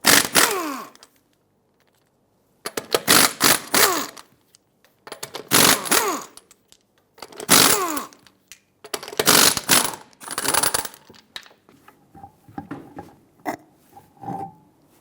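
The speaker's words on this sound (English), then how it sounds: "Use a 21mm socket, remove all 5 of your lug nuts, and then remove the wheel." Wheel lug nuts on a 2013-2020 Nissan Pathfinder being removed with a 21mm socket, giving repeated bursts of ratcheting clicks and metallic scraping, close and fairly loud, separated by short quiet gaps.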